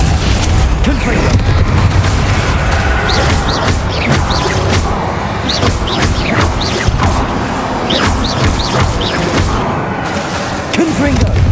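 Repeated Confringo fire-blast spells in Hogwarts Legacy go off as a rapid series of loud booms and crashing bursts, one after another, with combat noise throughout.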